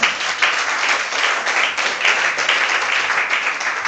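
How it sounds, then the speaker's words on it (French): A church congregation applauds at a Sunday service, with steady, dense clapping from many hands that holds at an even level throughout and shows no clear speech over it. "On peut applaudir pour maman?"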